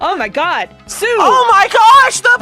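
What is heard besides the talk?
No everyday noise stands out behind the speech.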